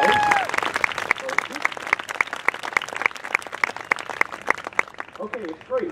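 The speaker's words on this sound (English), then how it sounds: "How about a round of applause?" An audience at a marching band summer clinic breaks into a round of applause: steady, dense clapping from many hands that fades as a voice resumes near the end.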